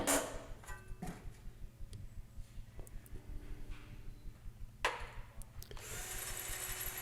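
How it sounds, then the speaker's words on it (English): A hand drill bores slowly into the stainless steel exhaust of a Mini Miglia/Libra race car, giving a faint, steady whir with scattered clicks and a louder burst at the end. "Now just got to drill the hole."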